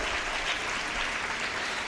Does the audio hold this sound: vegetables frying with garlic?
no